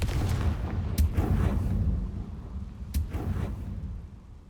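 Confringo fire spell explosions in Hogwarts Legacy, two sharp blasts about two seconds apart, each followed by a deep booming rumble that dies away over a low background drone.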